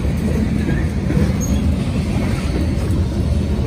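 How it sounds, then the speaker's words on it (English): A freight train on the Feather River Canyon line rumbles past at night, a steady low, continuous roar of rolling cars with no talk over it. "Caught this train, so hopefully it comes out okay"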